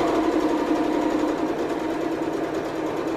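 A sewing machine stitches through jacket layers with interfacing laid on top, giving a steady, continuous whirring drone at close range that runs unbroken throughout, with no talking.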